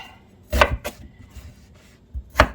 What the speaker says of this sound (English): I'm cutting these slices about 1/4 inch